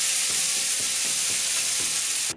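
Homemade gnocchi frying in a pan give a steady, close sizzle with faint rhythmic scraping as they are stirred, continuous and loud until it cuts off abruptly.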